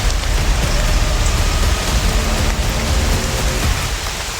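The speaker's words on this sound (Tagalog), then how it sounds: "Ulan pa." Heavy rain driven by strong wind roars as a loud, broad, continuous wash of noise with a deep low rumble, steady from start to finish without voices.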